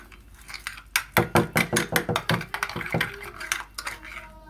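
A utensil stirs a KFC-style chicken coating mixture in a bowl, giving a rapid series of sharp clinking and scraping strokes in a steady rhythm, close and fairly loud, with no talking.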